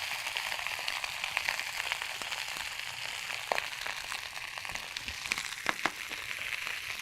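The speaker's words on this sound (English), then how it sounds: "You hear that sizzle?" A steady, close sizzle of asparagus frying in a hot pan, with scattered small pops and crackles throughout.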